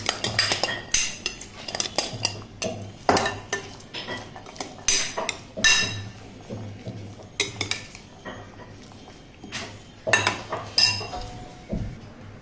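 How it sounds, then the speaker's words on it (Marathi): Salad being tossed with a sauce dressing in a bowl, a steady run of close clinks, scrapes and utensil knocks against the dish with short pauses between bursts; no voices. "सॅलड ड्रेसिंगसाठी थोडासा सॉस, आता हे सगळं मिक्स करणार आहे."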